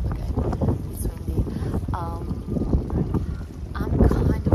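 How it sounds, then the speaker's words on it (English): Steady wind rumble buffets the microphone throughout on a Croatian island, with a voice speaking over it. "it's windy"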